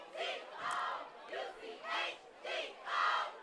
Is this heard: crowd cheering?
yes